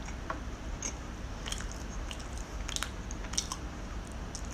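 Bread spread with butter is chewed close to the mic in quiet, soft wet bites and crunches recurring irregularly with no talking.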